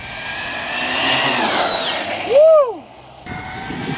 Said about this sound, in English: But we're taking out the RC car.